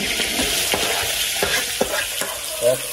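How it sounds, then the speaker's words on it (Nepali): Onions sizzle and fry in a hot pan with a steady hiss of oil, punctuated by scraping stir strokes, with no talking. "म पहिला यो हाल्छु पहिला प्याज हालौँ"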